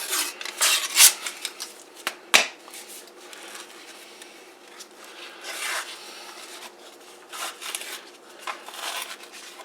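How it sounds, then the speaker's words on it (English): A package of crescent rolls being opened in a home kitchen, with crinkling and rubbing of the wrapper in irregular bursts and a couple of sharp snaps or pops, close by and without talk. "Gonna open our crescent rolls here."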